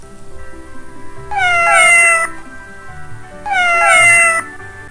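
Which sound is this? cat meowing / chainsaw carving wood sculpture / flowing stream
cat meowing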